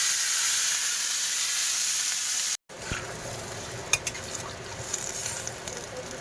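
Water is poured into a sautéed soybean curry masala in a hot pan: a steady, loud sizzling hiss, a brief dropout, then a rougher bubbling sizzle with scattered small pops and clinks, without voices.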